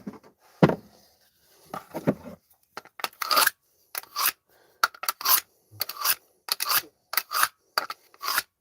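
A dull kitchen knife is drawn across a sharpener near a grill in a series of short rasping strokes, about a dozen quick scrapes in an uneven rhythm with brief pauses between them.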